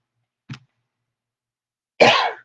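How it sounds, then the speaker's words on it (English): Two coughs separated by a pause: a short, faint one first, then a louder, longer, raspy cough nearby. "pardon me, I got a cough"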